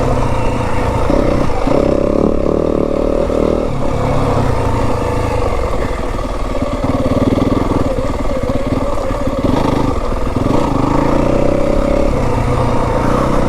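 A Yamaha WR 250F dirt bike rides Kelly Canyon single track. Its engine drones loudly and continuously, rising and falling with the throttle, and no one talks.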